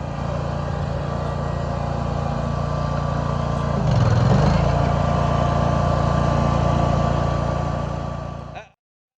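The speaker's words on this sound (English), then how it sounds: "us running the stump grinder on a stump" A John Deere X585 garden tractor drives a stump grinder chewing into a stump, a loud steady engine drone that surges briefly as the cutter bites, then cuts off abruptly near the end.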